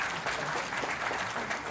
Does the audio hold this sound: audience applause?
yes